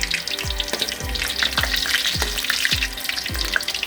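Homemade fishballs frying in hot oil, a continuous crackling sizzle with several soft splashes as pieces drop in at a regular pace, close up and without talk.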